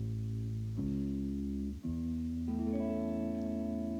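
Over a sustained guitar chord, three single notes step up in turn: the root, the third and the fifth. Each ringing tone holds steady and overlaps the chord, played softly with no talking.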